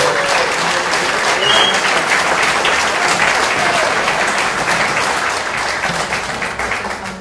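A town hall meeting audience applauds a police officer, a senior lead officer, introduced as a panelist: loud, dense, continuous clapping from a crowd that holds steady and begins tapering near the end.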